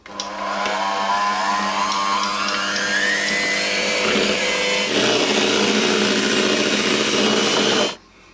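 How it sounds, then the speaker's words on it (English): An electric hand mixer whirs loudly and steadily as it beats cheesecake batter with white chocolate, its motor pitch climbing and then holding for about eight seconds before it cuts off abruptly, close up with no voices. "using an electric hand mixer, we're just going to carefully beat our mixture together"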